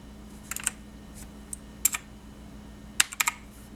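Keys on a Razer BlackWidow Chroma mechanical gaming keyboard are pressed in a few scattered clusters of crisp clicks, close but fairly quiet over a low steady hum, with no talking.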